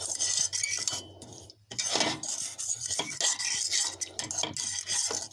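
Metal spoon stirring potassium nitrate into water, scraping against the inside of a container, rhythmic grinding strokes with brief pauses, close and fairly loud.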